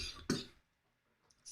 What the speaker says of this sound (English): That one was so good it made me cough.